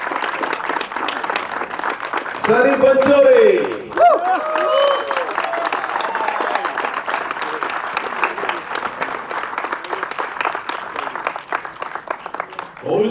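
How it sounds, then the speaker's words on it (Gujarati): Audience at a Gujarati film premiere breaking into sustained applause, dense clapping filling the hall throughout, with a presenter speaking over it through amplification. "શ્રદ્ધા માટે પણ તાળીઓ પાડી લઈએ"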